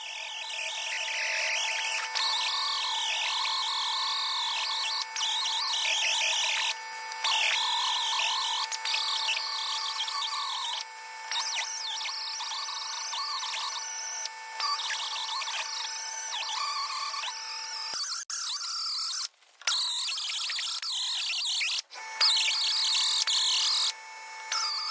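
A grinder working down a weld on the king pin of a Toyota forklift axle, a harsh continuous grinding broken by brief pauses where the disc lifts off the metal.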